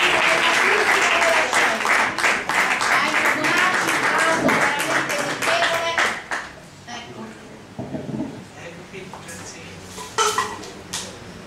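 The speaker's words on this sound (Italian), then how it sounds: "Complimenti, un applauso" An audience at an Italian-American cultural award ceremony claps heartily for several seconds, then the applause dies away into quieter room noise with a few voices and stray claps.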